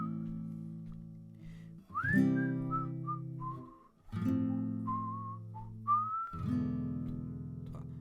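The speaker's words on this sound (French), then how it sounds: "Je vais juste vous siffler le petit thème qui va avec pour que vous vous rendiez compte que ça va bien avec" Whistled melody of a song, close and fairly loud, in three sustained phrases of held and sliding notes over a steady low strummed guitar accompaniment.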